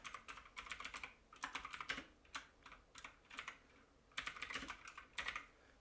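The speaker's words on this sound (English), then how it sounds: "And then we're going to type in, again, the name of the album." Someone types an album name on a computer keyboard while making a CD front cover, with bursts of quick, close key clicks separated by short pauses.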